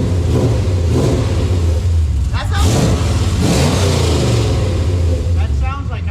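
Turbocharged BMW E30 engine revved in an echoey shop after an exhaust repair, loud blips rising and falling over a rumbling idle, with people talking over and between the revs.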